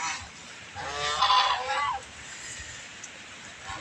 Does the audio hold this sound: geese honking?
yes